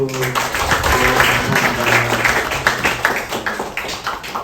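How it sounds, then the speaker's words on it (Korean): A welcoming round of applause at a Wednesday church gathering, steady clapping from a small crowd throughout, with some voices mixed in beneath. "환영의 박수"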